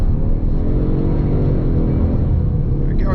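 A 2024 Ford Mustang with the 2.3 EcoBoost engine accelerates in second gear, a loud, steady engine drone from inside the cabin that holds without a break.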